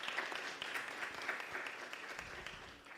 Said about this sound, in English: Let's give Sifako Makhato a round of applause.